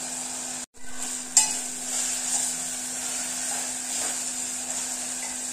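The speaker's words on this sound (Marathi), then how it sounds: "कांदा आपल्याला छान सॉफ्ट होऊ द्यायचा आहे." Onion sautéing in a pan for prawn rice, a soft steady sizzle with a sharp clink of a utensil against the pan near the start, no voices.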